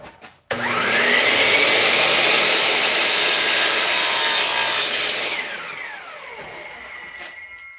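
A power tool trims a wooden pen blank, a loud continuous whirring, sanding-like grind lasting several seconds close up, then tapering off as the cut finishes and the motor winds down.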